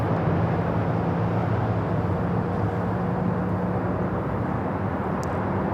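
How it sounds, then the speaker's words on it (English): United Airlines Boeing 737 MAX 8 taking off at Los Angeles International Airport, a steady, broadband jet engine roar with a low droning hum, continuous and fairly loud throughout. "This is United Airlines 1251 taking off to Cleveland,"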